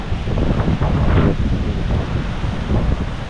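Steady wind buffeting the microphone over a broad wash of surf on a typhoon-battered shore, with a few louder swells rising and falling across the few seconds.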